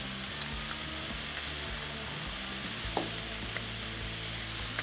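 Garlic cloves sizzling with onions and mushrooms on a Blackstone griddle, a steady close hiss and crackle with a few light clicks and scrapes of a spatula, no voices.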